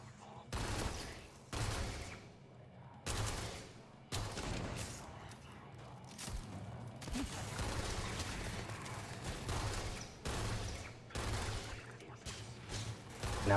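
Spec19 laser pistol firing in Starfield, bursts of sharp shots in rapid repeated volleys separated by short pauses, then more sustained fire toward the end, fairly loud against a quiet game background.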